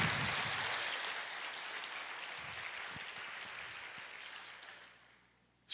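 A church congregation applauds, a broad wash of clapping from many hands that fades gradually over several seconds before cutting to near silence.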